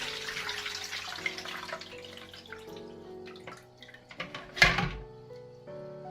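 Homemade tangerine liqueur is poured through a strainer, trickling and dripping steadily, with a few glassy clinks and a louder knock near the end.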